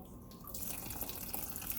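Liquid poured over beans, a steady wet splashing stream that starts about half a second in and runs on, fairly close and unbroken, with no talk.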